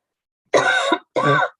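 Two harsh coughs in quick succession, close and loud, the first longer than the second, with silence around them.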